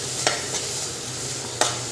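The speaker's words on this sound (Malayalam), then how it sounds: "ഈ ചെമ്മീനെ തന്നെ ഇട്ട് നമുക്കൊന്ന് വറുക്കാം" Steady low sizzling from a hot pan of large fresh shrimp frying, with two sharp scraping stirs standing out briefly above the constant hiss.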